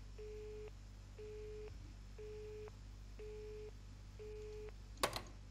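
Repeating telephone tone in a video game, five evenly spaced beeping pulses at a steady rhythm, faint and clean, followed by a short sharp click near the end.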